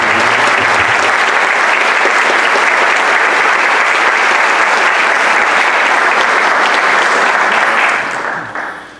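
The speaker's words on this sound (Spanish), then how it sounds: "pido que el Congreso le rinda un fuerte aplauso al colega Roycer" Sustained, dense applause from a congress audience at the opening ceremony of a Colombian history congress, loud and steady for about eight seconds before tapering off.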